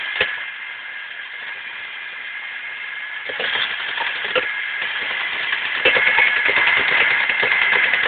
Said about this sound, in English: that tiny motor in the base makes all this work